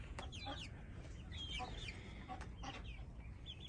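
Several hens cluck and chatter intermittently over a low rumbling background, short squawky calls coming in scattered bursts at moderate distance.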